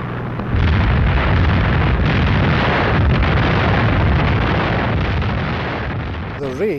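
Bombs bursting during a wartime night air raid, a dense, loud, continuous roar of explosions and rumble that holds steady for several seconds before fading slightly at the end.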